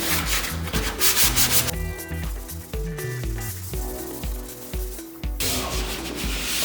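Sanding on a patched interior wall, a continuous rough rubbing scrape in steady back-and-forth strokes, close and loud, with no voices.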